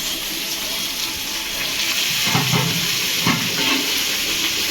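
Steady, close sizzling hiss of Bengali New Year dishes such as soybean and capsicum-potato frying in a pan, a constant bright fizz with a few soft stirring thumps and no talk.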